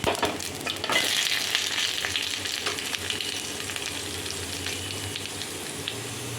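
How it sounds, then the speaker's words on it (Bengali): Bay leaf and fennel seeds crackle in hot oil in a wok, a steady close sizzle with faint popping, loudest at the start and settling into an even hiss. "কড়ার মধ্যে তেল বসিয়ে দিয়েছি, আর এখানে আমি মৌরি ফোড়ন দিচ্ছি।"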